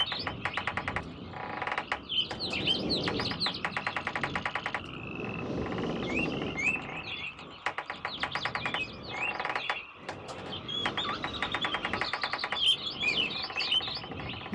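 Birds chirp and tweet continuously through the wooded treetop setting of the realMyst adventure game, layered high calls repeating over a steady ambient background bed, with no talking.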